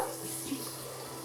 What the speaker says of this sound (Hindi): पानी रखेंगे हम थोड़ा सा